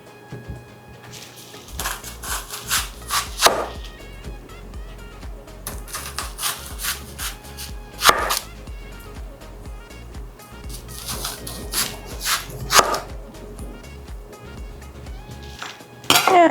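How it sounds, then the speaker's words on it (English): A knife cuts an onion into thick slices on a wooden board, giving several crisp chopping taps in small clusters with quiet rubbing between them, close by and fairly faint. "I am just going to slice that onion in that kind of thick"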